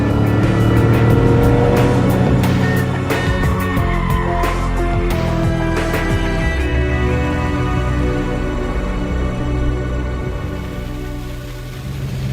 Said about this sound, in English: Again onto brakes, braking slightly earlier than I would in the later cars, just due to the slightly different brake performance.